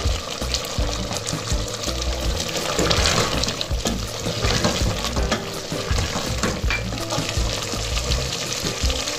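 Mutton frying and being stirred in a karahi for korma, a steady close sizzle with scraping stir strokes and a brief pouring splash, continuing without pause.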